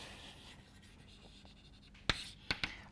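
Chalk or marker writing out a theorem during a math lecture, faint soft strokes followed by three sharp taps close together near the end, with no speech.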